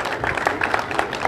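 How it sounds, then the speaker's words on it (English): Brief burst of applause from people gathered for a swim lesson at a pool, mixed clapping of moderate loudness lasting about a second. "give yourself a big round of applause, please."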